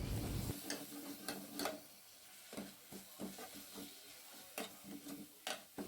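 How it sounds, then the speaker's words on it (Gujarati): Tomato masala being stirred into a hot garlic tempering in oil, soft sizzling under repeated scraping strokes of a spoon against the pan, with sharp knocks at irregular intervals, close and moderately loud, no talk. "હવે આપણે ટામેટાના મિક્સરમાં જે મસાલો કર્યો છે એ બધું જ આ વઘારમાં નાખી દઈશું અને એને પણ બરાબર મિક્સ કરતા રહીશું।"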